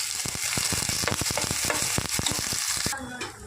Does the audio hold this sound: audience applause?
no